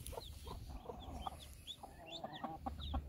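A hen clucking in a bowl with newly hatched chicks, low repeated clucks mixed with high peeping chirps, close by over faint background noise.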